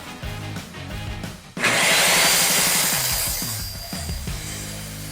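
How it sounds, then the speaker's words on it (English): After some brief knocks and handling of the timber, a circular saw starts up loud and close and rips through wood for a workbench, its whine and cutting rasp sustained for several seconds before winding down. "We'll get our circular saw, we'll cut that line."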